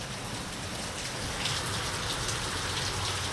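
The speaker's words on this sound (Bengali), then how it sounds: "ইস কীভাবে বৃষ্টি নেমেছে এত জোরে" Heavy, wind-driven rain pours steadily near a market street where water is pooling, a dense, unbroken hiss that stays loud and even throughout with no voices.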